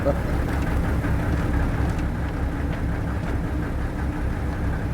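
A submarine diesel engine in the WWII game Wolfpack runs as a steady, heavy low rumble with a constant throb, continuous and fairly loud throughout.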